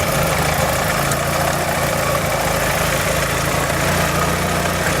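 A car engine idles after its cooling system was flushed with water, a steady, even low hum with constant mechanical vibration and no revving, close and continuous.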